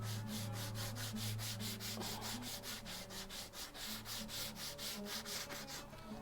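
Sandpaper rubs rapidly back and forth in a steady rhythm of about two dozen quick strokes, close and continuous with a faint low hum underneath.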